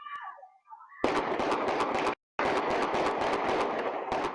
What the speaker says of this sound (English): you will hear loud gunshots